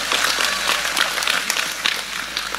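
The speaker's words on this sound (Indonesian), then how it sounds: "tepuk sing banter gak usah sungkan" Sustained crowd applause at an Islamic sermon in Indonesia, a dense, steady patter of many hands clapping at moderate loudness for a few seconds.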